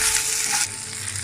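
Whole shallots and curry leaves sauté in a hot pan for a buttermilk curry. A loud, close sizzle drops to a softer hiss partway through, as if the food was stirred or shifted.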